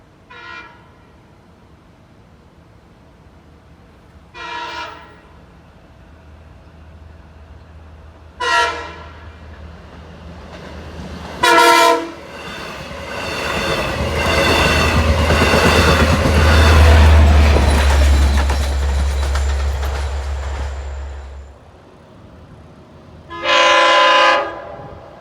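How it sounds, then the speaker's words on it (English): The LIRR Patchogue Scoot, a westbound train headed back toward Babylon, passes Oakdale station, sounding several separate horn blasts that bracket a long, loud rumbling roar of the cars going by, with no voices. "Westbound number 3 is the Patchogue Scoot making its way back towards Babylon."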